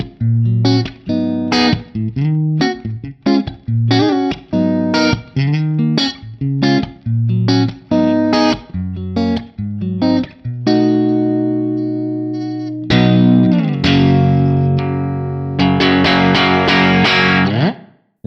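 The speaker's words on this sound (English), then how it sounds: "It's just adding a little bit of room ambience to your tone" An electric guitar played through a Fractal room-type reverb gives a light room ambience: choppy rhythmic chords with short decays, then a sustained held chord, ending with bright, dense strummed chords, all loud and with no talking.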